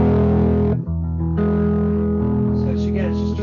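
A sustained, thick electric guitar tone through a pedal in preamp mode, boosted and warm, rings out steadily, with a brief dip in the middle before the notes continue.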